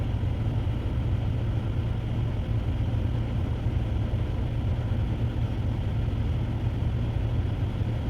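A Toyota Sienna engine runs steadily at 2000 RPM, producing a constant low, droning hum without pauses or changes, heard up close and alone.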